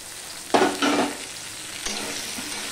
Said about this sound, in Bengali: দিয়ে সম্পূর্ণটা মিশিয়ে নিয়ে আমি আরেকটুখানি ভেজে নেব।